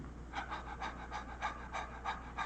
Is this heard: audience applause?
no